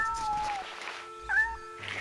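A small cat in the video game Shenmue gives a couple of short, thin meows over a steady game background hum, with a voice talking faintly alongside.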